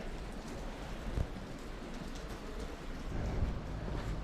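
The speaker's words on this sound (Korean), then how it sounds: "비가 조금씩 내리는데" Light rain falls steadily outdoors in Borjomi, Georgia, a soft, even patter filling the whole stretch with a few slightly louder drops near the middle and end and no voices.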